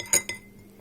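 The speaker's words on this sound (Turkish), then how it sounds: "İyice dipten karıştırıyorum" A spoon clinks against a glass while iced coffee made with cold milk, coffee and powdered sugar is stirred thoroughly from the bottom, giving two bright metallic taps close up, then quiet.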